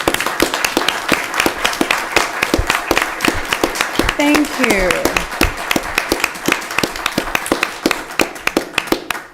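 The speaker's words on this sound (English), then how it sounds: "we want to give you a round of applause" At a city council meeting, a standing room gives applause heard as a rhythmic stream of distinct, fairly close claps lasting throughout, with a brief spoken interjection in the middle.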